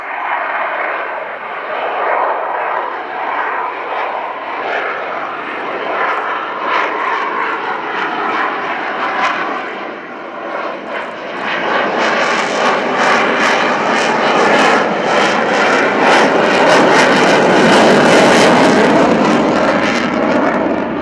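An F/A-18 Hornet jet makes a slow high-alpha flypast at an airshow, its engines a loud, sustained roar that swells and brightens into a harsh, broadband blast as it passes close by.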